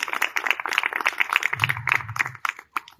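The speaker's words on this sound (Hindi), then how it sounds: "एक बार जोरदार तालियों से उनका जरूर स्वागत करें।" An audience at a large yoga institute anniversary gathering claps to welcome a yoga teacher, a fairly dense burst of clapping that thins out toward the end.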